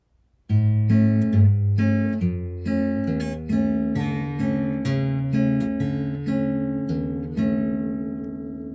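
A clean guitar riff plucked note by note in a steady repeating pattern, close and bright, each note ringing into the next.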